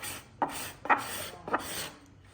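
A hand scraper shaves a wooden inlay flush with the grain, taking thin shavings in three distinct rasping strokes over a faint background hiss, close and fairly quiet.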